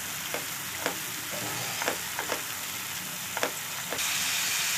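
Onion with ginger garlic paste sautéing in a pan for a soya chunk masala gravy makes a steady frying sizzle. Several sharp scrapes of a spoon against the pan come at irregular intervals, and the hiss grows brighter near the end.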